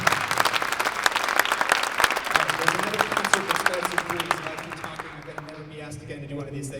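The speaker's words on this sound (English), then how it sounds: "So can we give our students a round of applause?" An audience applauds junior jazz students at the 2022 ILMEA junior jazz concert, with loud, dense clapping that fades after about five seconds as sustained instrument tones and a few voices emerge.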